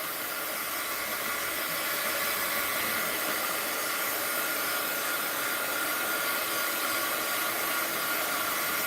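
A dryer blows steadily over a painting to dry its wax top crust, a continuous, even rushing hiss with no other sounds or voices.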